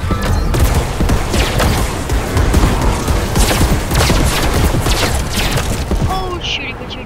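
Fortnite gunfire crackles in a loud, busy battle royale match, with repeated shots and mechanical clatter throughout and a few brief tonal game effects near the end.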